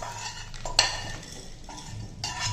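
Sautéed shallots are tipped out of a pan onto a plate: a few metallic clanks and scrapes of pan and utensil against the plate, close and crisp, with a faint sizzle fading beneath.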